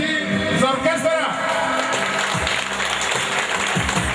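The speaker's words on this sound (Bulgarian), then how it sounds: "аплодисменти за оркестъра!" An audience at a Bulgarian festive gathering claps for the orchestra with dense, continuous applause. A voice talks over the start, and a few scattered shouts rise from the crowd.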